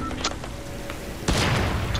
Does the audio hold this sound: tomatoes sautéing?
no